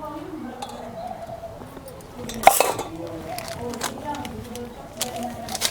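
Spoon stirring tomato masala and salt into a paratha filling in a bowl, with scattered clinks and scraping and one sharp knock midway, under a speaking voice.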